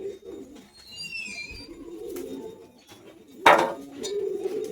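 Pigeons of the Andhra breed coo softly at close range, a few low murmuring calls with faint chirps of other birds and a brief clatter partway through.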